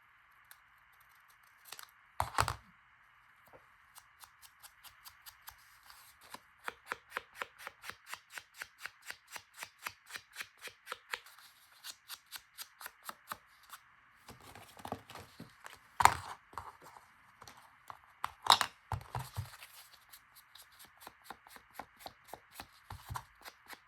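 Paper being snipped with scissors while making a Halloween junk journal, a long steady run of close, crisp cuts in quick rhythm, broken by a few louder handling thumps, with no talking.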